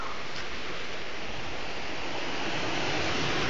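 Sea waves washing along the coast below Diu Fort, a continuous broad roar of surf with wind noise on the microphone, steady and fairly loud with no voices.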